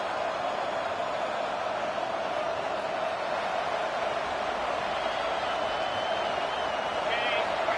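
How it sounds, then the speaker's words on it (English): A college football stadium crowd roars in a continuous, distant wash of cheering and clapping, steady and broad. "Listen to the crowd energy here in the early going."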